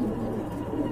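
Pigeons at a pigeon sale give a brief, low, throaty coo amid steady background murmur, heard close for about a second.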